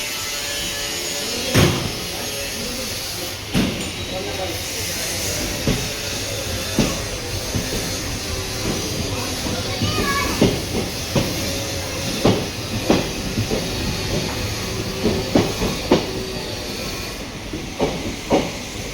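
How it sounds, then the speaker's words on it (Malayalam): Kerala Express 12626 pulling away and rolling, heard from inside a passenger coach: a steady broadband rumble and hiss with irregular clanks and knocks from the carriage, no speech. "ഈ കോച്ചിൽ ഇതാ ട്രെയിൻ എടുത്തു കേട്ടോ"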